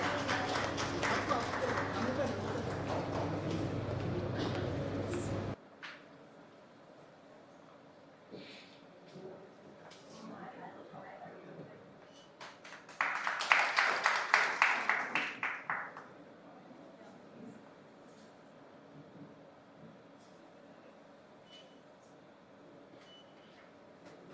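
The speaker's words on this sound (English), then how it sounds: "can we please have a huge round of applause for her as well?" A stage-show audience applauds a guest: a brief burst of clapping lasts about three seconds midway, framed by loud noise at the start and quieter talking around it.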